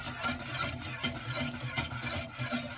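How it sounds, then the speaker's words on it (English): A whisk works steadily through a cheese sauce for mac and cheese, giving a close, rhythmic wet scraping and swishing against the pan with a faint sizzle underneath. "I'm going to constantly whisk this for about 10 minutes"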